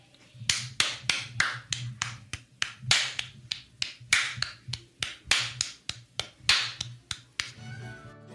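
Hands clap a fast, driving reel rhythm for a Celtic music demonstration, with about eighteen crisp, close claps in a steady repeating pattern and nothing else around them.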